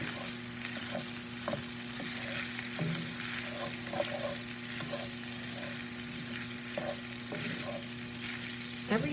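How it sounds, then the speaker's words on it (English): Corned beef hash frying in a skillet gives a steady, close sizzle throughout, with occasional scraping stirs and soft clinks of a utensil against the pan, over a low hum. "you're just warming your hash up. And giving it a good old fry."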